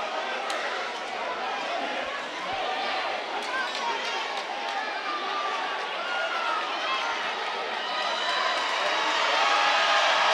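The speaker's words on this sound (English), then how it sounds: "North Shore crowd making a lot of noise" A crowd at a North Shore high school boys basketball playoff game roars loudly and continuously, swelling toward the end, with an announcer talking over it.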